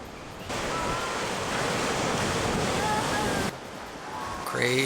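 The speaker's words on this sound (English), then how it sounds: "After lunch, they decide to check out the waves." Ocean surf breaking along the South African coast, a steady broadband roar of waves heard near and continuous for several seconds, with a brief dip before it swells again.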